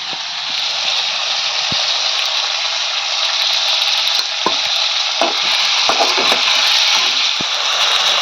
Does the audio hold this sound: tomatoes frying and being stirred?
yes